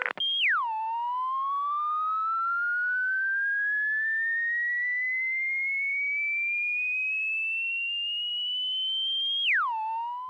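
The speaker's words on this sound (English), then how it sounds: "Normally, a loop checker test tone sounds like this." Telephone loop checker test tone from 1970s New York City phone lines: a single pure tone that drops, then slowly glides upward for about nine seconds before dropping sharply again, steady and clean with no voices.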